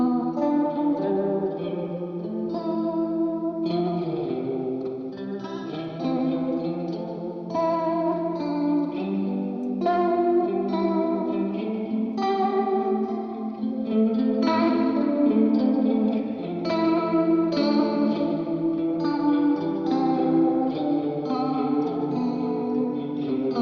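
Guitar played through a Source Audio Encounter delay and reverb pedal set to lo-fi mode, giving a steady run of warbling, echoing chords and notes with dense trails, loud and continuous throughout.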